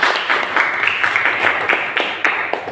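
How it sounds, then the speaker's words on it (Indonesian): Students in a classroom clap for a classmate named Johan, a brief round of fairly loud, uneven applause close by that tapers off toward the end. "tepuk tangan untuk Johan"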